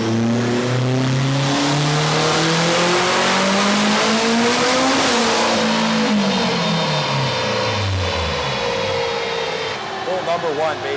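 A turbocharged K20-swapped 8th-generation Honda Civic Si revs hard on a dyno, engine pitch climbing steadily for most of the pull and then dropping away, loud and close, with people talking over it.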